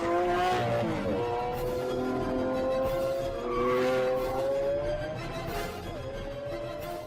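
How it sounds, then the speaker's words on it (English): A Lamborghini Aventador V12 engine revving hard through rising and falling pitches, with audible gear shifts breaking each climb; loud and continuous, with no talking. "This 12-cylinder symphony has a full range, from a moderate rumble through the town at low revs to the screaming crescendo of maxed-out gear shifts"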